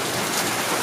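Heavy rain with big raindrops pours down steadily during a tornado warning, a dense, loud, continuous hiss of drops striking surfaces with no voices.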